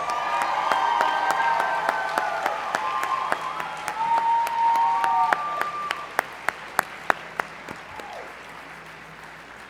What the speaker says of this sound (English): Can we have a round of applause for all of tonight's awardees?